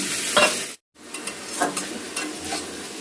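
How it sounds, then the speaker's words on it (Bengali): Pepper- and salt-marinated chicken pieces for a chicken stew fry in a pan, a close steady sizzle with scraping stirring sounds, broken by one brief moment of silence. "মাংসটা আমি একটু ভাজা ভাজা করে নিলাম চিকেনটা"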